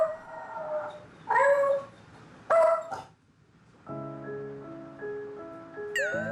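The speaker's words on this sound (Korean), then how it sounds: "그런데 그때 울부짖는 태양." An anxious dog howls at home, giving two short wavering cries and then a long sustained howl, close and alone.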